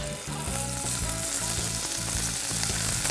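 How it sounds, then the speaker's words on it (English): Loud, steady sizzling from U10 scallops frying in a hot pan fills the whole stretch, with soft crackles and a low rhythmic thump underneath. "And you want to hear that sizzle in the pan."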